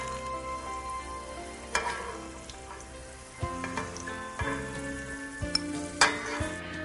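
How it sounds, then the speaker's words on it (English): Chicken Giuseppe ingredients sizzle steadily in a hot frying pan after garlic is removed, with occasional scraping and clinks of a utensil stirring, close and without any talking. "Hear that sizzle."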